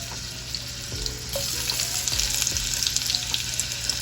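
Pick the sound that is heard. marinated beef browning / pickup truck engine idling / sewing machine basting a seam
marinated beef browning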